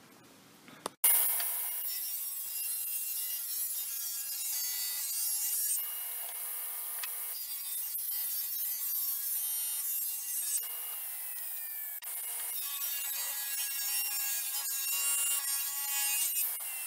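A power saw rips a 3/4-inch or 1.5-inch strip from leftover wood stock while building a hall tree storage rack. The loud, steady whine and rasp starts abruptly after a second and continues for about sixteen seconds, close by and with no talking.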